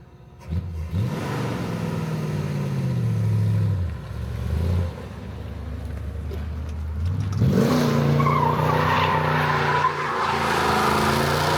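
A 1964½ Ford Mustang with a swapped carburetor revs hard twice as its tires break loose on tarmac, the engine note climbing and a squealing skid rising over the roar, loud and nearby.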